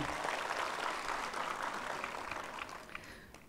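An audience claps for Dr. Reni at a spring festival gathering, with a full burst of applause that gradually thins and fades near the end.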